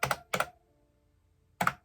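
Keys clack on a 32-year-old computer keyboard bought for $85, two quick taps close together, then a pause and a third, each a crisp, close, mechanical click with no talking.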